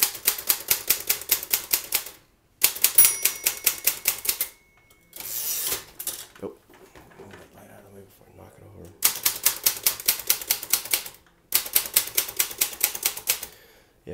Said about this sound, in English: this is my all-time favorite typewriter